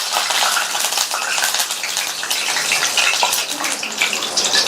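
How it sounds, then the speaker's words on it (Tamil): Curry leaves frying in hot oil on a switched-off stove for a Tamil varuval side dish, giving a steady, loud crackling sizzle that stays continuous for the whole stretch with no talk. "இந்த சூடான எண்ணெயில கொஞ்சமா கருவேப்பிலை இலைகளை சேர்த்து எண்ணெயிலேயே வறுத்துடலாம்."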